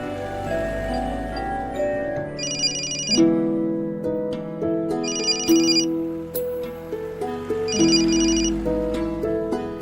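Telephone ringtone heard on an outgoing call, a melodic electronic tune with repeating bright chimes, playing steadily and clearly for about ten seconds with no voices.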